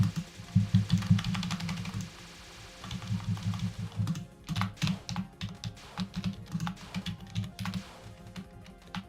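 Rapid clattering of keys on a computer keyboard, heavy dense bursts at first, then lighter irregular taps, close and steady for several seconds with no voice.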